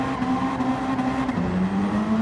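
A Mazda Demio race car with an engine swap and high-RPM turbocharger, spinning its front wheels in Gran Turismo 7, a loud sustained engine drone holding high revs with a slight dip and rise in pitch.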